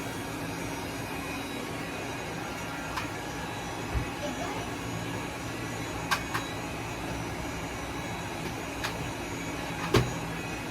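A small EC19C cordless vacuum cleaner runs with a steady, even whirring drone, broken by a few faint clicks and knocks.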